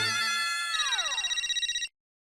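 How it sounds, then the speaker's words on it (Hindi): A telephone rings with a bright, repeated electronic trill that then sweeps downward and cuts off abruptly, heard alone indoors at close range. "विजय का फोन आ रहा है"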